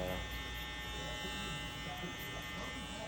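Electric hair clippers with no guard and the lever open, cutting hair for a burst fade, a steady close buzzing hum throughout.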